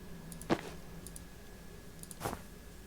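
Two faint, sharp computer mouse clicks, about two seconds apart, during play of the game Unturned, over a low steady background hum.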